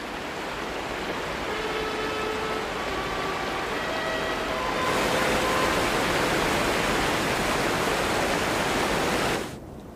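Meltwater rushing loudly and steadily at Königssee, a constant broad roar that nearly swallows faint trumpet notes echoing through the mountains, then the rush surges louder before cutting off near the end.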